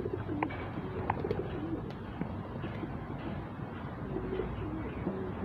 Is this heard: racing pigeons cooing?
yes